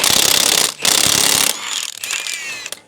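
A tool works loose a car drive shaft bolt, with a loud rapid mechanical rattle in two bursts followed by quieter metallic clinks and scraping.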